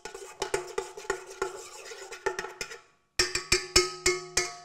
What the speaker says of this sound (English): And just give that a little stir, just to make sure all the gelatin is wet.